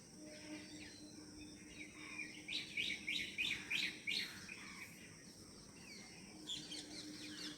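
Small birds chirp in the early morning, quick bursts of high tweets in a few clustered runs over a faint outdoor background, fairly distant and soft.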